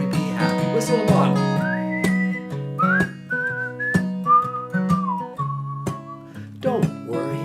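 A person whistles a melody, a clear, loud, lilting tune of sliding notes over a steady backing track.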